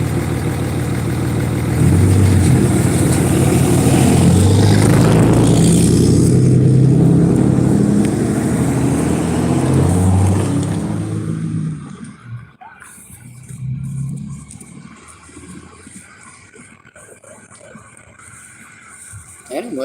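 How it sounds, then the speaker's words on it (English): A large truck's heavy engine rumbles loudly close by, with people talking over it, then it fades away after about twelve seconds, leaving quieter background. "that truck is huge."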